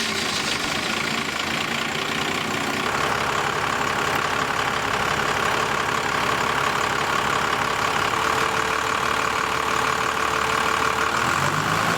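A Dodge Ram diesel engine idles steadily during a fuel pressure test, a continuous loud, clattering rumble close by with no pauses.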